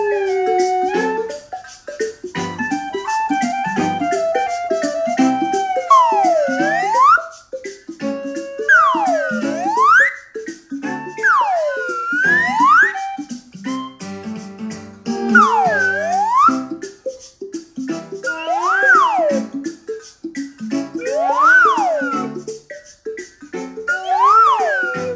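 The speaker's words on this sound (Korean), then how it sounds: "슬라이드 휘슬 놀이 음악과 함께 해보도록 하겠습니다." Slide whistle played along with children's music, its pitch swooping up and down in repeated glides over a steady backing track, loud and continuous throughout.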